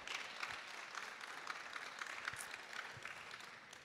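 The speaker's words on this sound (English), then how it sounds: "I'd really like to have a round of applause for this year's organizers for putting on a great show." Faint, steady applause from a conference audience for the organizers, an even patter of many hands heard from a distance.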